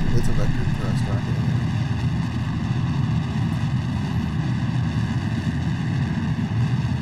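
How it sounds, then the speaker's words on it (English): A vector thrust rocket engine in Kerbal Space Program gives a loud, continuous low roar with a steady droning hum layered above it. The sound holds at an even level for several seconds. "It's a vector thrust rocket"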